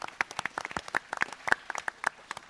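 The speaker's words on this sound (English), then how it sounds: "Give them a round of applause." Scattered individual claps from a panel audience at a gun convention, sparse and uneven rather than a full ovation, fairly quiet and moderately close.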